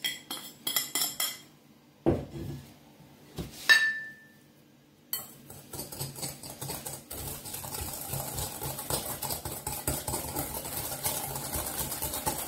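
Three egg yolks and sugar mixed in a bowl for a coconut Mont-blanc cake: a few sharp utensil clinks and pauses, then a steady run of quick, close clattering strokes against the bowl.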